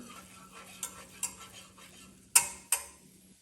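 A utensil scrapes and taps a few times against a pan while clarified butter and flour are stirred together over low heat, quiet, sparse clinks with a faint hum between them.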